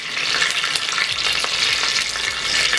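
Cumin and mustard seeds frying in oil on a tawa, giving a dense, continuous sizzle with faint crackles and occasional stirring scrapes, close and steady throughout.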